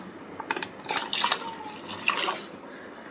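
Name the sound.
tamarind water being poured into a pan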